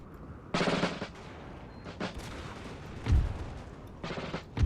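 Musket volleys crack out in Napoleon: Total War, the battle game, in several sharp bursts separated by short gaps, one heavier thump midway, fairly faint overall with no voices.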